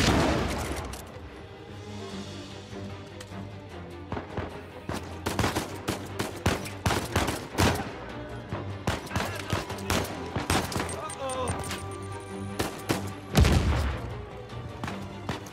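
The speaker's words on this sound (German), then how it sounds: "Ein Schuss." Gunfire from the video game Uncharted 4: rapid loud shots and bursts of automatic fire crackle over several seconds, with a heavier boom near the end and a steady ambient rumble beneath.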